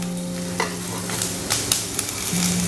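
Onion frying in a little olive oil in a pan over low heat, a steady crackling sizzle with sharp pops and spatters, close by and alone.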